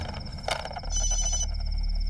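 A telephone rings in a tense Hindi action-thriller scene, a bright trilling burst of electronic ringing heard clearly over a low steady hum, with no talking during the ring.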